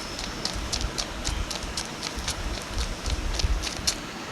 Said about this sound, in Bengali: ট্রেন চলেছে সাউন্ড বাড়াই দিই